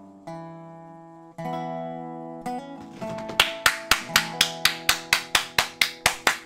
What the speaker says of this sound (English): The royal clap.